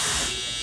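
Electric shaver buzzing during a haircut fade, a short close hum that is louder at first and then eases slightly.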